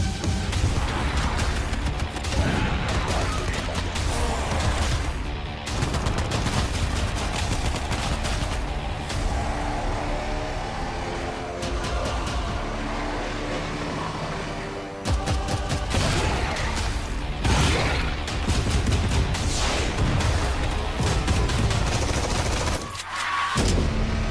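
Gunfire from the World War Z video game trailer crackles in dense, repeated bursts and volleys with heavy booms, loud and sustained, briefly breaking off before resuming.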